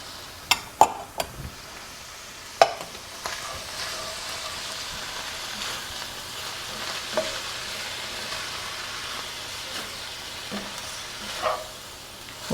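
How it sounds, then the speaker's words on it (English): Green bell pepper with half a red onion and half a yellow onion frying in a pan, a steady close sizzle with a few sharp clacks of stirring early on and scattered taps later, no talking. "We'll cook that up until the onions and peppers are soft"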